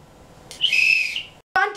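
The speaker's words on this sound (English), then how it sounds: "Here, use this whistle." Whistle blown in a single shrill, sustained blast, with a brief sharp second toot after a short gap, loud and close, alone without speech.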